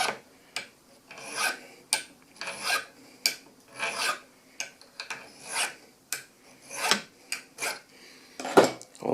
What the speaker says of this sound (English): just run a file around the perimeter.